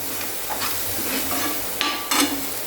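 Egg curry masala being stirred and sautéed in a pan, a soft continuous sizzle under scraping spoon strokes, with two sharper metallic scrapes and clinks toward the end.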